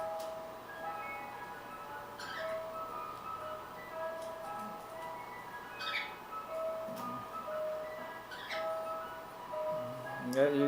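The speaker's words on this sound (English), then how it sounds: "could the ice cream truck just go away?" An ice cream truck plays its tinny melodic jingle over and over, moderately distant and steady, with chirpy squeaks and a person talking over it.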